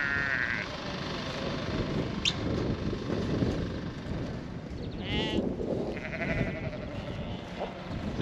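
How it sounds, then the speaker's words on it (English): Ewes bleat now and then while a flock is shifted down to a lease block. Several calls ring out over steady outdoor noise and movement, and there are faint background sounds that may include distant voices. "So down here at the lease block, just shifting these ewes down here."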